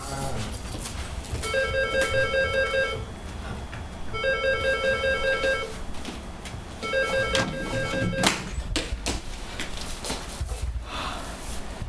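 A telephone rings on stage during an end-of-year theatre performance in Paris, three separate bursts of electronic trilling at a steady interval, fairly loud with faint room murmur around them.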